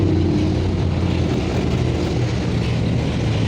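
A tractor engine drones loudly on a road as the vehicle overtakes, keeping up a steady, rumbling low roar with wind noise throughout and no speech.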